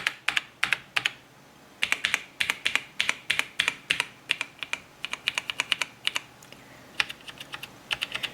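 Keys clatter in quick irregular bursts on the keyboard of a Toshiba T3200 laptop, close and crisp with short pauses between runs of typing, no voices.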